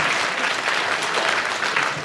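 A studio audience at the 1967/68 radio panel game Just a Minute claps together in a dense, even burst of applause, close and loud, lasting the full two seconds without speech.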